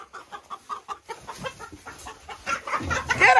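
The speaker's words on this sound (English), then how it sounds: "Ellie, get that rooster!" A rooster on a farm gives a run of short, rhythmic clucks up close, followed by louder scuffling and commotion as the bird is chased.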